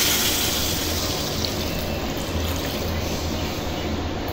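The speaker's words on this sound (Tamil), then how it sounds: "இப்போ தண்ணி ஊற்றி சேர்த்துக்கலாம்." Water pours steadily into a pot of pepper chicken curry, a continuous, even splashing gush at close range with no talk over it.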